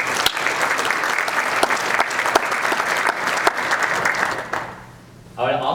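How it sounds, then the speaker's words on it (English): Audience applause for top students at a keynote speech, a dense, loud wash of clapping that holds steady for several seconds, then fades out before a voice begins speaking. "So let's give you all a round of applause."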